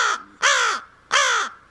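Crows kept in a cage give loud, harsh caws, three drawn-out calls in a steady rhythm, close by, with no talking.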